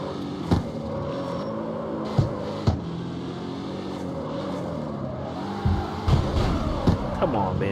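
BMW car engine in the CarX Street driving game, a steady droning engine note that shifts in pitch as the car slides through drifts, with occasional thumps and a voice talking over it.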